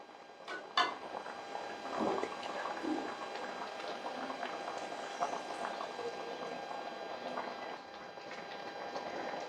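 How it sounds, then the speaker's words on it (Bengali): Fried onion tipped into a pot of simmering red lentil dal with cauliflower: a quiet, continuous bubbling hiss, a few sharp clinks of a utensil early on, no speech. "এখন এটা ডালের মধ্যে ঢেলে দেবো"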